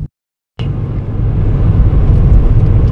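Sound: car driving

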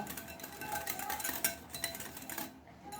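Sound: stirring and mixing yogurt drink in a pot

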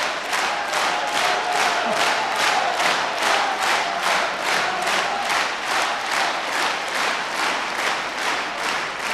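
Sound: audience applause and cheering at a mugham competition

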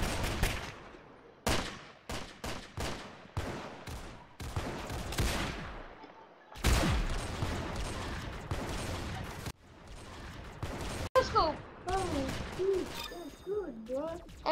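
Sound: sniper rifle no-scope shots in a video game

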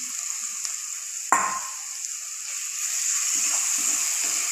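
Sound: frying tomatoes, cashews and ginger-garlic paste for palak paneer

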